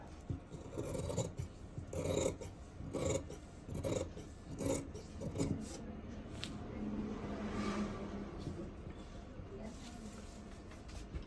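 Scissors cut through fabric for a churidar pant, producing quiet, close rasping snips in an uneven rhythm that give way to a softer, continuous rubbing of cloth.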